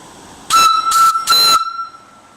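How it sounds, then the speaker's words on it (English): An antique steam whistle on a factory steam engine and boiler gives three short, loud blasts in quick succession, a bright shrill tone with breathy hiss, then silence. "And I tried the whistle, that worked good."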